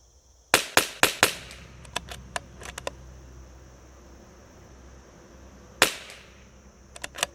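Rapid sharp cracks from a Whidden Gunworks CZ 457 rifle fired at a target, a burst of several quick shots, a pause, then a couple more, crisp and close.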